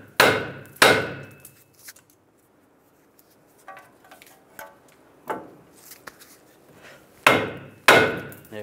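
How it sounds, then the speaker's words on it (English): Several sharp metallic hammer taps on the steering knuckle of a 2007-2013 Chevy Silverado 1500, a pair near the start and another pair near the end, with quieter clinks and shuffling in between. "take the hammer, just give it a tap right here"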